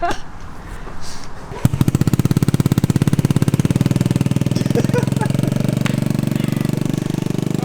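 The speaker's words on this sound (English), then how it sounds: "Cold start for the boys." Modified scooter engine, worked on to run faster, firing up from cold after some quiet talk, then settling into a loud, steady, rapid idle chatter close by.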